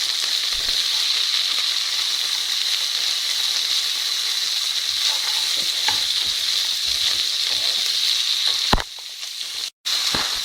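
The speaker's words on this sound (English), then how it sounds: "capsicums have been cooking for a few minutes" Capsicums for chilli paneer frying in a pan, a loud, steady close sizzle with occasional stirring clicks, briefly dipping near the end.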